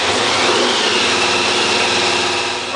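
A 1965 Chevrolet Nova engine runs loud and close after a cold start, holding a steady rough idle with no voices over it.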